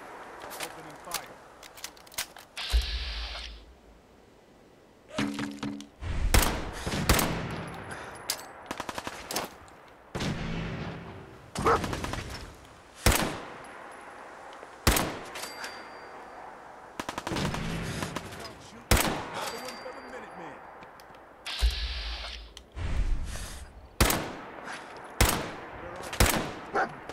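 Gunfire in the video game Fallout 4: loud, sharp shots and rapid machine-gun bursts come in irregular clusters with short pauses between them over nearly half a minute.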